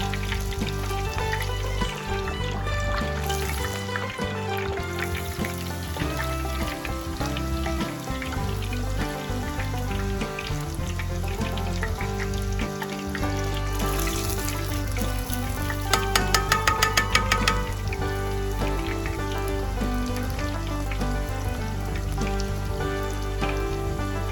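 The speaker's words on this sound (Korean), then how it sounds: "이제 찌꺼기를 걷어낸 후에 180도의 온도에서 2차로 튀겨두세요" Steady crackling and sizzling of a pork cutlet deep frying in hot oil, a dense continuous bubbling hiss that holds for the whole stretch, close by.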